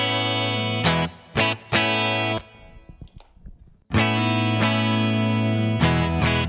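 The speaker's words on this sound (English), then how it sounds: "this is a great sound to add like some chorus, more delay and reverb to get this real nice and open sound" An electric guitar run through a Tone Sculptor with chorus, delay and reverb plays bright, distorted sustained chords and short stabs, then a brief pause with a scratchy transition before ringing chords return, loud and close with no voices.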